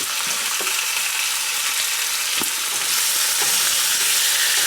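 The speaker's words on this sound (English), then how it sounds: "as this pan fills up with grease, don't drain it off because that grease helps to cook the bacon" Bacon crisping in its own rendered grease in a pan over medium heat, a loud, close, continuous hissing sizzle with a few small pops and taps, no talking.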